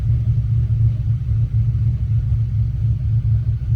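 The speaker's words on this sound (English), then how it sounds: "engine's gonna sound good once you get rid of that misfire" An Audi A5 engine with a misfire idles in a low, steady rumble, close and continuous, with a faint irregular pulsing through the drone and no voices.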